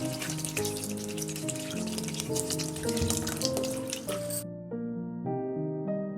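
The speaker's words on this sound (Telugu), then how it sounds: "ఇప్పుడు ఆ నీళ్ళని వంపేసుకుని మంచినీళ్ళు పోసుకోండి" Water drains off soaked soya chunks and fresh water is poured over them in a kitchen, a close continuous splashing and dripping over faint background music.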